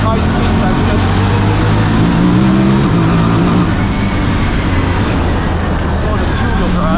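A 2025 Honda Talon 1000R side-by-side with a Jackson Racing turbo accelerating hard on an off-road high-speed section, a loud, continuous engine roar that builds and shifts in pitch.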